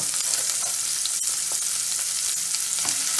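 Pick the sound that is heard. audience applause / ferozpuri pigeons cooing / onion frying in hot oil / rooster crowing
onion frying in hot oil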